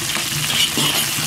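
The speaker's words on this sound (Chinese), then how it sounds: "锅里倒点油，多来点葱姜， 炒香以后下入八角、" Scallions, ginger and whole spices such as star anise and cinnamon frying in oil in a wok, with a steady close sizzle and a light stirring scrape throughout, and no voices.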